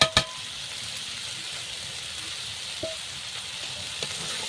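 Prawns for a kolar mocha, banana flower dish, fry in a pan with a broad even hiss, opening on a sharp clatter and carrying a couple of faint knocks later, steady and without talking.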